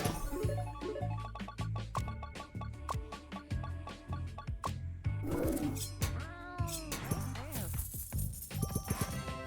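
Cartoonish cat meows and yowls from the pet battler Super Auto Pets, mixed with quick clicks, chimes and game effects in rapid succession, with no speech.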